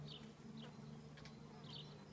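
Honeybees in a horizontal beehive keep up a steady, close, low buzzing drone, with a few individual bees passing nearer now and then.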